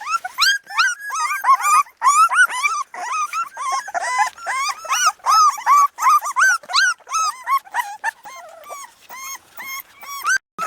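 An Alapaha Bulldog x American Bulldog puppy, or a litter of them, whimpers and yips with high, squeaky cries in rapid, uneven bursts. The calls are close and loud, with no talk.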